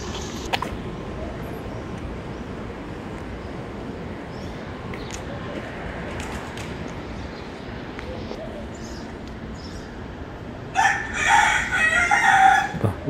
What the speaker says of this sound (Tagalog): May manok dito ah